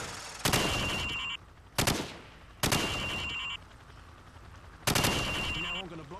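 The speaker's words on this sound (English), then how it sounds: "shoot at the target while firing from the hip" Automatic weapon fired from the hip in Call of Duty 4, heard as four loud, abrupt bursts with short gaps between them, close and dominant, each trailing off into a ringing tail.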